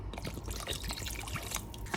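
Vinegar trickles and splashes as it is poured into a pressure cooker holding beef feet covered in water, a steady liquid dribble running close by for about two seconds.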